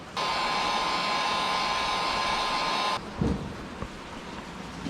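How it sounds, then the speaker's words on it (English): A heat gun blows hot air over wire connectors to seal them during work on an old Ford F-150 farm truck, a steady loud whooshing hum that cuts off after about three seconds, followed by faint handling knocks. "Now we'll go through and basically use the heat gun on these connections to seal that up."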